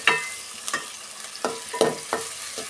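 Finely chopped large onions fry in a pan for milk kurma, a soft continuous sizzle broken by several close scraping stirs of a spatula at irregular intervals, with nobody speaking.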